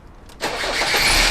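A 2005 Fiat Ducato van engine cranks briefly and catches, settling into a steady running rumble.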